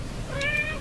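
A cat meows once, a short rising call, fairly close and clear over a faint steady background hum in a room with old radio equipment.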